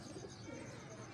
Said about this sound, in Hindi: ये देखें जी ये कबूतर पड़ा मेरा